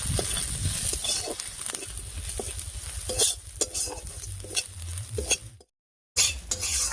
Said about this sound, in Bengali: নারকেল কোড়াটা দিয়ে ফোড়নের মধ্যে একটু নাড়িয়ে নিয়েছি